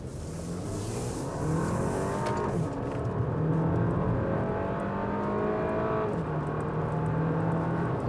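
Porsche Macan with a 252 hp four-cylinder accelerating hard from 0 to 100 km/h, the engine note rising through the gears with several clear upshifts, heard steadily from inside the car, loud and continuous.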